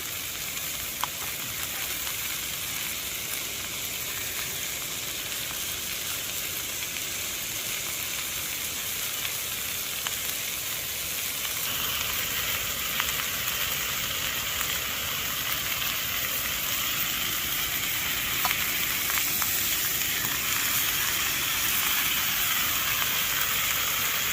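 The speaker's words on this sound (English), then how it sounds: "just place the steak on top, so that'll just cook with the heat coming through the veg, so it's not flat on the pan" A steak placed on top of vegetables in a pan at a rainy tent campsite sizzles and fries continuously, a loud, close crackling hiss that swells slightly partway through, with no talking.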